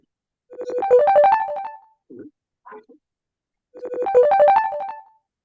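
A mobile phone ringtone plays twice, a bright rising electronic melody repeating with a short gap in between, while faint murmurs are heard during the pause.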